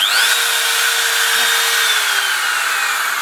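A Makita RT0700 router runs at its lower speed setting, a steady loud whine held close and continuous throughout with no talking.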